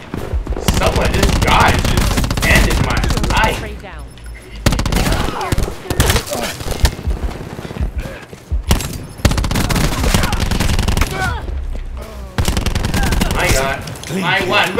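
Rapid automatic gunfire and bursts of shots from the video game Call of Duty, loud and dense, with short lulls and a player talking over the action.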